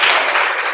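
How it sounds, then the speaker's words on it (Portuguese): Congregation at a church service applauding, a dense burst of hand claps close and loud, heard alone with no talk. "Me bate palma."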